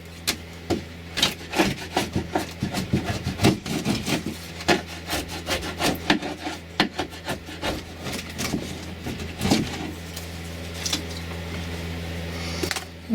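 Cork is torn and scraped out of a model railway bridge by hand, a run of close, rough ripping and rubbing bursts in uneven rhythm that thin out toward the end, with no voices.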